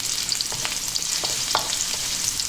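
Sliced ginger and garlic sizzle in hot oil in a wok, a steady bright crackle with quick scraping stirs and spatters close by, and no voices.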